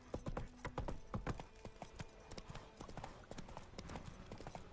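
Roach the horse gallops in The Witcher 3 video game, with quick, rhythmic hoofbeats that start fairly close and continue quietly and steadily.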